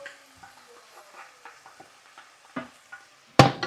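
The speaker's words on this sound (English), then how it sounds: "Just mix it all up, just like this." Vegetables get stirred into rice in a pan, with soft scrapes and light taps spaced through a quiet stretch, then one sharp, loud clatter near the end.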